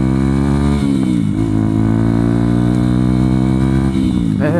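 A small 125cc motorcycle engine while riding, loud and close, holding a steady buzzing note that dips briefly and then rises again, with no talk.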